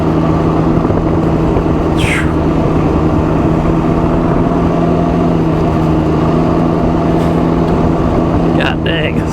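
A Ryker three-wheeler's engine drones loud and steady on soft dirt at barely any throttle, with a constant low hum and brief higher whines over the continuous rumble.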